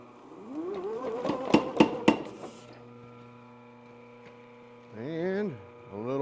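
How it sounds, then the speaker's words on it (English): Three sharp metallic hammer blows land in quick succession on metal being forged, over a steady electrical hum and a rising then wavering mechanical whine. "I'm going to hammer real quick."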